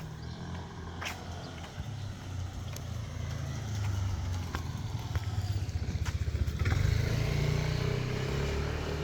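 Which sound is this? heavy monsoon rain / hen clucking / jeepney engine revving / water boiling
jeepney engine revving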